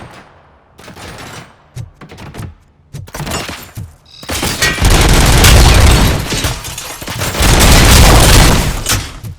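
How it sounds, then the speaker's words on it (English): Sustained heavy gunfire from UED robots in RoboCop: Rogue City, loud and dense, opening with scattered sharp shots and swelling into a continuous roaring barrage with booming impacts. "Oh, those UEDs shoot so beautifully. Too bad they're shooting at me!"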